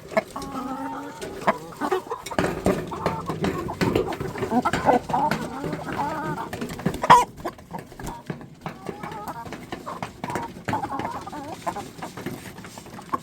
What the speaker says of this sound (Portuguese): E agora vamos ver na prática as galinhas utilizando ele.